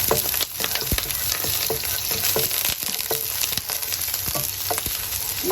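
Chopped garlic fries in hot cooking oil with a dense, steady sizzle, broken by crisp clicks and scrapes of a utensil stirring it through the pan, close up and without any talk.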